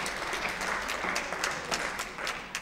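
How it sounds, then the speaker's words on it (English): An audience at a community participatory budgeting event in Bradford keeps up dense, continuous applause, moderately loud and steady, with a few sharper claps standing out near the listener. "More, keep the applause going."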